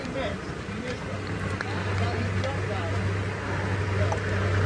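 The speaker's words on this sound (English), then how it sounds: "There are, like I say, quite a few safari vehicles around, so that's what you're hearing going past you." Safari vehicles drive past on a game drive, their engines giving a steady low rumble that builds and swells toward the end, with faint voices and outdoor ambience in the background.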